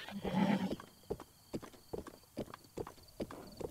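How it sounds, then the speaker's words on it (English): Horse hooves clip-clopping at a walk in the video game Zelda Breath of the Wild, evenly spaced thuds after a short burst of game noise, moderately loud with no speech. "I got me a wild horse."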